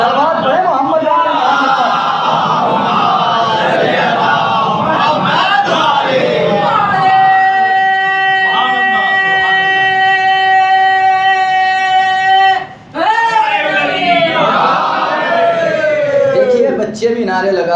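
A large crowd at an Eid Milad un Nabi celebration chants religious slogans in loud, sustained unison, with a long held tone in the middle and voices swelling again afterward.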